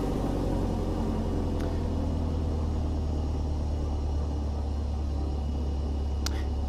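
Piper Arrow propeller engine idling in Flight Simulator 2020, a constant low droning hum with a steady pulsing beat, close and even throughout, with a couple of faint brief clicks, no voices.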